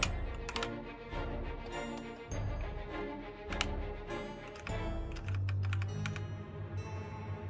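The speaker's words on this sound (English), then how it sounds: "pressing numpad 1 on my keyboard" Keys on a computer keyboard being pressed during 3D modeling work in Blender, giving a steady stream of close, crisp clicks and taps, with occasional louder strikes and brief lulls, against a low background hum.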